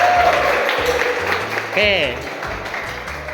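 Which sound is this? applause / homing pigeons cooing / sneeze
applause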